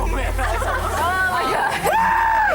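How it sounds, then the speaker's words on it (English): Riders on an extreme amusement park thrill ride scream and yell, their rising and sliding wails overlapping over a steady rumble, loud and close. "Screams are a great sign on thrill rides."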